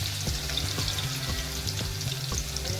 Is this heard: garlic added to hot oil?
yes